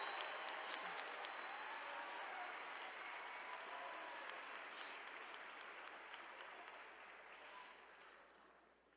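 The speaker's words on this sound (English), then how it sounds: "can all the students, faculty, and guests join me in a round of applause to celebrate the high school class of 2020?" Sustained applause rolls through a large crowd at a college commencement ceremony, a dense, even roar of clapping that holds steady and then gradually tapers off toward the end.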